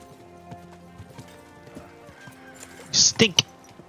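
A horse in the video game Kingdom Come Deliverance 2 clip-clops at a slow walk, with soft, fairly faint hoofbeats under game ambience, then a few sharp louder knocks near the end.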